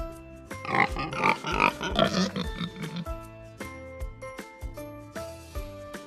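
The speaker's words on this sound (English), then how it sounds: "Pig." A cartoon pig oinks in a quick run of close, loud grunts, over cheerful background music with light jingles.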